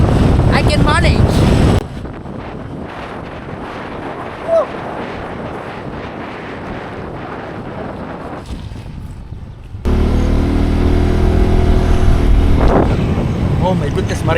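Heavy wind at the Pampanga River dam in the rainy season buffets the microphone in strong gusts, with a roaring rumble that drops briefly mid-clip and then surges loud again.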